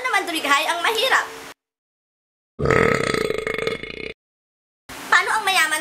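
A loud, drawn-out imitated burp, standing for how a poor person belches, sounds alone for about a second and a half in a silent gap between bursts of speech.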